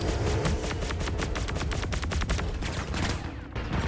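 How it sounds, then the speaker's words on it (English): Rapid automatic gunfire in the Star Citizen game's Star Marine mode, a dense, loud burst of shots rattling steadily for nearly four seconds with no voices. "Taking shots, taking shots."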